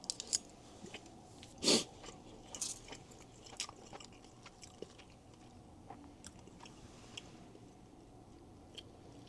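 Close, quiet mouth sounds of someone chewing Ghanaian jollof rice with curry, with soft irregular clicks and one sharper bite early on, and no talk.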